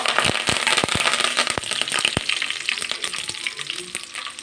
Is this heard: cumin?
yes